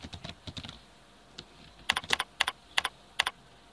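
Formula being typed on a computer keyboard for a spreadsheet lookup, a quick run of near, crisp key clicks in irregular bursts with short pauses, with no talking.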